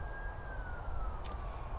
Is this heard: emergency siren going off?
yes